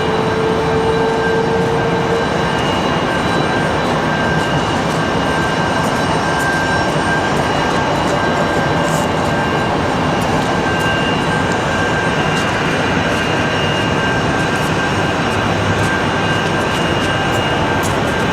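An American Airlines jet roars steadily on departure from Raleigh-Durham airport, a dense, continuous engine rush mixed with wind noise and a faint high whine, with no talking.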